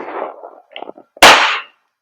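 A WE Glock 17 Gen 5 airsoft gas blowback pistol fires one sharp, loud crack with a brief trailing hiss, preceded by soft muffled handling and murmured talk.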